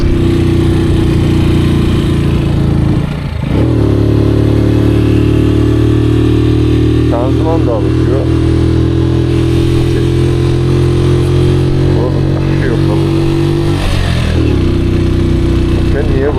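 A Kuba Superlight 125 motorcycle runs during its break-in period, its engine droning loud and steady with a couple of dips and rises in pitch as gears shift, while someone talks over it.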